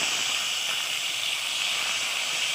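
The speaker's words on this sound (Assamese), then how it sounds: "এতিয়া মই পিঁয়াজ দিছোঁ তেলতে।" Onions sizzle in hot oil in a wok while a fish curry is prepared, a steady close hiss that holds evenly throughout with no voices.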